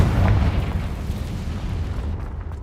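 A Confringo spell blast erupts in Hogwarts Legacy as a heavy, booming explosion that hits loud at the start and then trails off into a rumbling decay.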